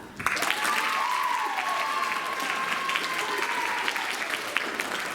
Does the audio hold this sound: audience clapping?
yes